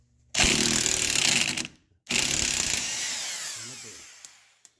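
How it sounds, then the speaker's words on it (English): Impact wrench hammering at a seized 12 mm socket bolt during front suspension repair on a collision-damaged 2006 Mazdaspeed 6. Two loud, close bursts, each lasting about a second and a half with a short pause between, then the rattle trails off. "So this is a 12 mil socket. It's seized in there, so I'm trying to use an impact, see if that comes off."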